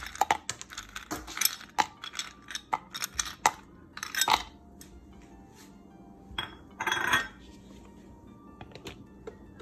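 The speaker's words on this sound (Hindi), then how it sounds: "अब मैं डालूंगी इसके अंदर आइस" Ice cubes clink and rattle against a glass or blender jar as they are dropped into a mango and pineapple smoothie mix, a flurry of sharp hard knocks that thins out, then a short rattling burst.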